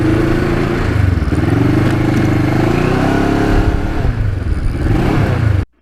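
A Kawasaki Ninja motorcycle is ridden, its engine droning loud and close in a steady, slightly rising and falling pitch for several seconds before cutting away abruptly.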